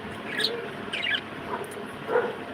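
Soft, scattered high chirps from pet lovebirds in the evening, a few short bursts spread over a couple of seconds with low background hiss.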